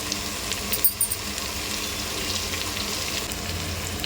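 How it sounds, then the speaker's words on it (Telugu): Water pouring into eggplant curry cooking in a pan, a steady close wash of splashing and simmering hiss with a few light clinks near the start. "తగినన్ని నీళ్లు పోసుకోవాలి"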